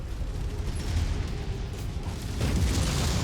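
Heavy, rumbling blasts from missiles exploding in the mech combat video game Mechwarrior 5, a continuous low roar that swells toward the end, with no voices.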